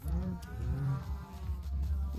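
Cattle in a video game give several low, drawn-out moos one after another, close and clear with no talk over them.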